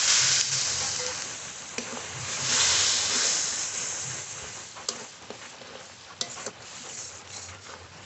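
Spices with turmeric powder, salt and a splash of water sizzle and fry in a pan for a village-style spicy sea crab curry, a steady close hiss with occasional spatters and no talking.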